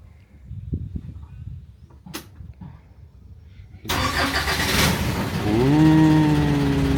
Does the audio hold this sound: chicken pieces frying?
no